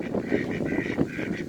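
Ducks quacking in a mixed backyard flock with chickens and turkeys, a steady run of close nasal quacks and honks filling the moment without a break.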